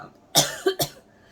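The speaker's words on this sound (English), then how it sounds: "I don't know why I'm coughing" Two or three short, sharp coughs in quick succession, close by, with quiet room tone before and after.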